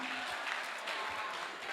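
An audience at an Islamic boarding school interactive dialogue event applauds for the candidates, a dense continuous clapping that stays fairly even and moderately distant throughout.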